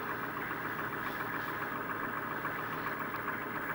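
A 1993 Chevy 6.5 turbo diesel idles steadily at a moderate distance, a continuous low rumble with a faint rattly texture and no voices over it.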